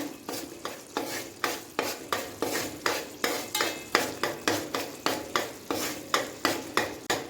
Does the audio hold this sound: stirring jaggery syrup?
yes